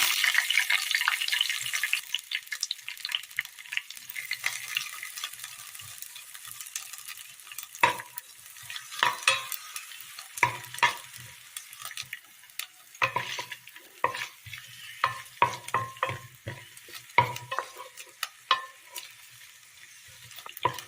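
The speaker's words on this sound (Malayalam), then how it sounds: "എണ്ണ ചൂടായി വരുമ്പോൾ അതിലേക്ക് ബജിമുളക് ഇട്ട് കൊടുക്കുക" Bajji chilies frying in hot oil in a pan, an initial strong sizzle fading into intermittent scraping and stirring clicks over about twenty seconds, close and without speech.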